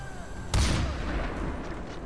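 A burst of covering gunfire in Far Cry 4 erupts suddenly and loudly, then rolls on as a sustained rumble of shots and explosions without voices.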